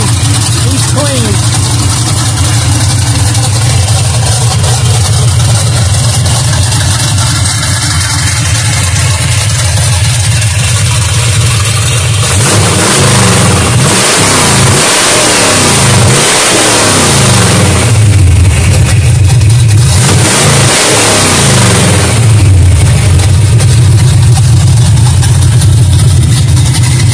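A 1959 Ford F100 pickup truck engine idles with a steady low rumble, then revs in several surging pulls, loud and close, with people talking over it at times.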